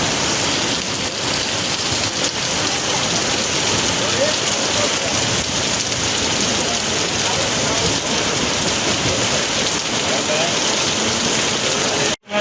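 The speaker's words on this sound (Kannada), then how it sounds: "ತಿರಂಗ ಯಾತ್ರೆ ಆರಂಭವಾಗುತ್ತಿದ್ದಂತೆ ಮಳೆಯ ಆರ್ಭಟ" Heavy rain pours down on an outdoor tricolour flag procession in Gadag, where students hold a 300-metre flag. It makes a loud, steady, dense hiss that continues unbroken and stops abruptly at the very end.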